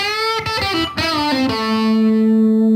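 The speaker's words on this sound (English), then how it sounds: "I'm playing a little bluesy lick to end it." Distorted electric guitar plays a short bluesy lick through an effects unit, a few bent and picked notes settling onto a sustained final note, loud and up close with no talking.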